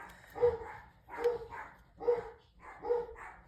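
A dog outside barks four times in a slow, even rhythm, each bark fairly close and clear with quiet gaps between, as it is walked past.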